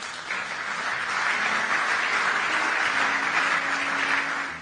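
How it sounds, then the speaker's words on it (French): Audience applause fills a church or preaching hall, sustained steady clapping from a crowd lasting several seconds before tapering off at the end, with no voices over it. "On peut acclamer, pourquoi pas."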